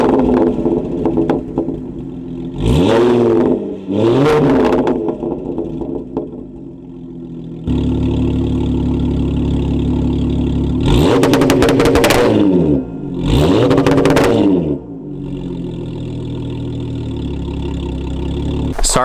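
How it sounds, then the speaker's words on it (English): An Audi S4 B8.5 revs through its exhaust while parked, several sharp climbs in engine pitch rising and falling over a steady loud idle, up close. "Just rev it up for you guys, give you what it sounds like."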